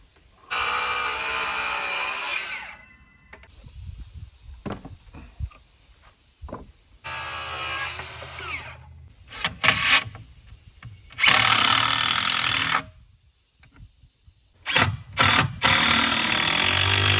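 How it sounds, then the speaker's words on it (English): A power saw cuts wooden pallets down to length in several separate bursts of loud, harsh whining, with short pauses and quieter knocks and handling noises between the cuts. "we're gonna take these pallets and we're gonna cut them down to 48 inches exact"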